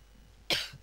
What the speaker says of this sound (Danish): I må undskylde, jeg hoster helvede til, mand.